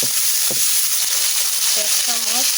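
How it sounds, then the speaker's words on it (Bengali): Pigeon meat frying in hot oil with fried spices and onion, a steady close sizzle throughout with light stirring clinks and scrapes. "কিছুক্ষণ মাংস আমি ভেজে নিলাম"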